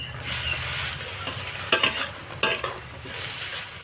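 Spinach cooks with lentil nuggets (dal bori) in a pan, a continuous sizzle punctuated by a few clattering bursts of stirring, near and loud, with no talking.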